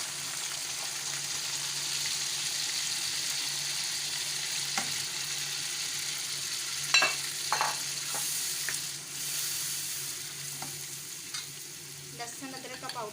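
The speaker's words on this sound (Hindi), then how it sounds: "अब हम इसमें अपना पेस्ट डालेंगे।" Spice paste going into chicken frying in a pan for a Pakistani-style achari dish, giving a steady sizzle with a few soft stirring scrapes and clinks, moderately quiet and with no voices.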